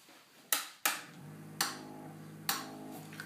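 Several sharp clicks sound at irregular intervals over a faint steady hum, each click crisp and close.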